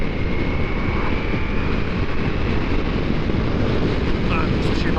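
A Ducati Multistrada V4S motorcycle runs flat out in sixth gear, its engine a loud continuous roar buried under heavy buffeting wind rush, steady throughout.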